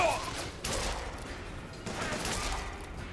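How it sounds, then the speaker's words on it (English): Hand cannon gunfire in the video game Bioshock Infinite, a burst of loud gunshots at the start followed by two more heavy blasts, with a dense, noisy game soundscape between them. "And this is why I love the hand cannon."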